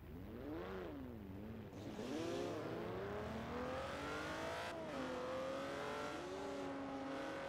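A Cadillac Escalade drives in the video game Forza Horizon 4, its engine droning steadily and fairly loudly, with the pitch rising and falling as it shifts and accelerates, and no voices.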